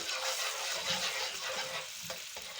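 Steady, dense sizzling of chopped pide bread frying in hot butter and oil, continuous and close, with a few faint clinks near the end.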